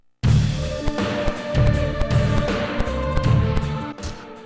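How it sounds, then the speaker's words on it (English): Menu selection cues from the Ferrari Challenge Trofeo Pirelli racing video game: a dense, harsh electronic jingle with repeated thumping low hits in a steady rhythm, loud and continuous for about four seconds, with no talking. "then why did the selection cues sound like this?"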